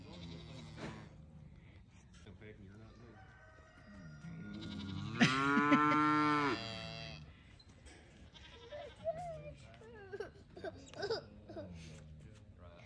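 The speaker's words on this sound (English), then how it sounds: "If you are looking for a little mini moo moo cow, this is your guy right here." A miniature cow on a farm lets out a single drawn-out moo midway through, fairly close. Quiet voices and light farmyard noise surround it.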